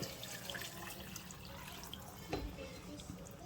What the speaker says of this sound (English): we're going to add some more water over that.